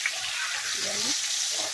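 Food sizzles steadily in a pan as it fries, a soft hissing wash with faint bubbling and the odd low scrape, no one speaking over it.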